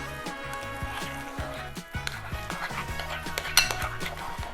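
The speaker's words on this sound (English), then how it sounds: "mixing that up until it's nice and thick and well combined" Low carb sugar-free chocolate chip cookie dough being stirred in a bowl, with steady scraping and clinking of a utensil against the bowl sides under a faint background hum, no talking.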